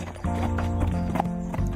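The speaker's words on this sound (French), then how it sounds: "venir travailler les chevaux en trotting" Horses trotting along the grassy bank of the Rance river in Brittany, close and loud, with rhythmic hoof clip-clops and a brief whinny over a low background hum.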